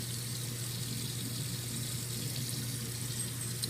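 Lukewarm tap water runs steadily into a sink over brass instrument parts, a continuous even splash and hiss with no pauses and no voices.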